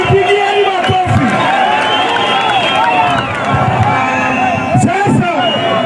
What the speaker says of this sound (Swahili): Jipigieni makofi.